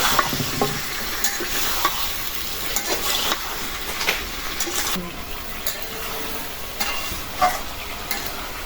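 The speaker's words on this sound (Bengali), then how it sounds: "ফুলকপি দিয়ে কষাই নিলাম" Radish and cauliflower stir-fried in a hot pan give a continuous close sizzle, broken by repeated scraping and clattering stirs across the whole stretch.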